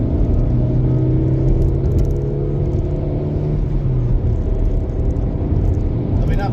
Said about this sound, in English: now we're going to get the little Sandero, see how long it takes, 30 to 60.